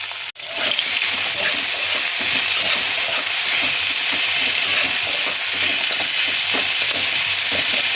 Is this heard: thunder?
no